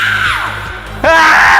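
A groom in a Hindi TV serial lets out a loud, drawn-out yell that falls in pitch and pauses briefly, then a second strained shout starts abruptly and holds to the end.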